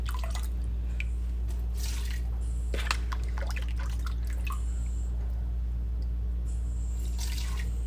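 Demi-glace spooned through a fine mesh strainer drips steadily with scattered small wet taps and trickles, close and fairly quiet over a constant low kitchen hum.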